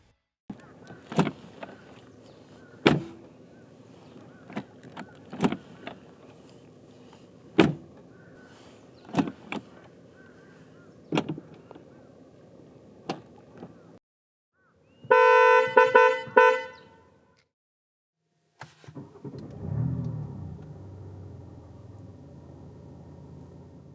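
A BMW X7 M50d gives off a run of cabin and body sounds: sharp, isolated clicks and thumps at intervals, then a brief bright electronic chime, then a low motorized hum after a pause. All are fairly quiet and close.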